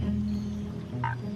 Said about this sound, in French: Il s'agit de la grenouille de Darwin.